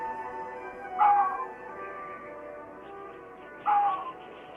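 Two short, high yapping barks ring out a few seconds apart over a faint, steady background hum.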